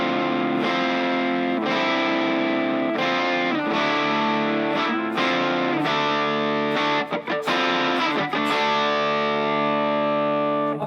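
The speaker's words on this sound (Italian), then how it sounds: "In questo caso ho voluto provare un fuzz, quindi ho usato questo Sola Sound Tone Bender" Electric guitar played through a Sola Sound Tone Bender fuzz pedal, thick saturated sustained chords and notes with sharp attacks and a choppy muted stretch near the end, loud and alone.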